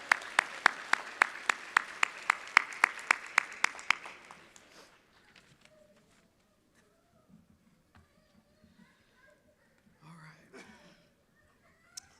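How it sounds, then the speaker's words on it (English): At a university commencement ceremony, the audience gives a speaker a quick round of applause whose clear, evenly spaced claps fade out after about four seconds. Quiet murmurs and faint rustling follow, with a low voice near the end. "Another round of applause for Mr. Hicks."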